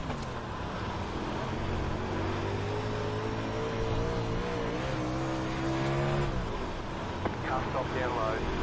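Late model race car engines in a video game drone and whine at high pitch, rising and shifting as they accelerate after the pace car leaves, with a squeal near the end.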